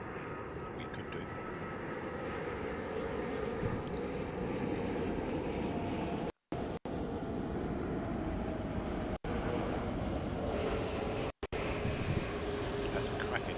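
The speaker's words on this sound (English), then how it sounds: "That's a cracking landing, isn't it?" A passenger aircraft lands at Heathrow Airport, a loud continuous roar of engines and rushing air that holds steady throughout, broken only by a few brief dropouts.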